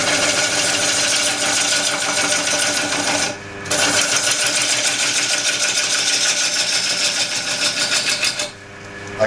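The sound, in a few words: wood lathe shear cutting an old wood platter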